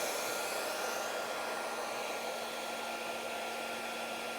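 A Bauer cordless heat gun blows hot air onto heat shrink tubing, giving a steady, even blower whoosh with a faint motor hum, alone and unbroken throughout.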